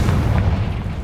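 Confringo blasting spell in Hogwarts Legacy going off as a loud, close, booming explosion with a deep rumbling body that fills the short moment.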